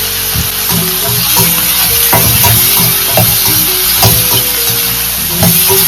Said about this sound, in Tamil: இது எல்லாத்தையும் தாளிச்சு வெஜிடபிள்ஸ் எல்லாத்தையும் வதக்கலாம்